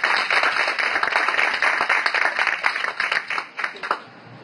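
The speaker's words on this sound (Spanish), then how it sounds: "Démosle un fuerte aplauso al doctor Sánchez." Applause from a conference audience after a doctor is introduced at a talk on hormonal treatments, dense and steady clapping that thins out and fades toward the end.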